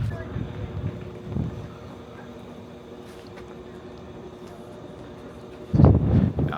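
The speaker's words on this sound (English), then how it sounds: "It's windy up here." Wind gusting across the open bridge of the battleship USS Missouri at Pearl Harbor, a steady low rumble of buffeting against the microphone that swells into a louder burst near the end, with voices faintly underneath.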